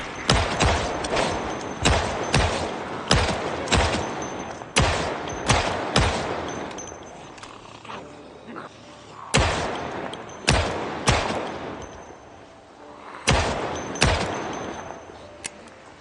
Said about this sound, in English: I'm whipping out the M9 for this.